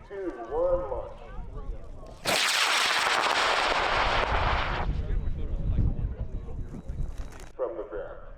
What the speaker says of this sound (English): Let's put Sky's rocket up in 5, 4, 3, 2, 1, launch